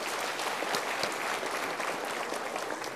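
A steady, dense round of applause from a seminar audience at a Mario Teguh motivational talk, even and unbroken for the whole stretch, moderately distant.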